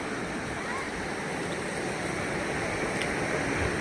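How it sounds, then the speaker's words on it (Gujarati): Water rushes steadily over large boulders near a hilltop temple in Banaskantha, a constant, fairly loud broadband roar with no pauses. "પાણી ચાલુ જ છે."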